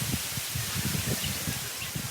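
Palm leaves rustle and hiss in gusty wind at a beach on Cebu Island, Philippines, with low rumbling buffets of wind against the microphone throughout.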